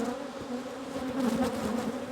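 Honey bees flying back to their colony during a late-summer hive check, a steady, close buzzing hum that swells slightly midway and carries on without pause, with no voices.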